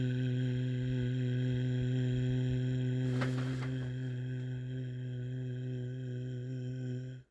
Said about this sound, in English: you want to sync with your partner in a hum that sounds something like this